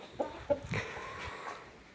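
A rooster leading a farm flock gives a few short, faint calls in quick succession, with quiet background noise after them.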